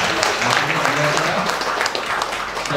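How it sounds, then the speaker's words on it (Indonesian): A crowd at a university send-off ceremony for community-service students applauds a guest, a continuous wash of clapping that holds level for a few seconds while a voice talks underneath. "Nah, tepuk tangan untuk beliau."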